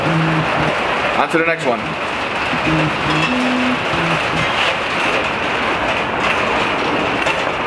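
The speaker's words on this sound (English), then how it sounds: "it's pouring down rain outside, so I got the garage door closed" Heavy rain pours down outside a closed garage as a steady, dense hiss under the whole stretch, with someone speaking briefly over it and a few short tonal sounds near the start.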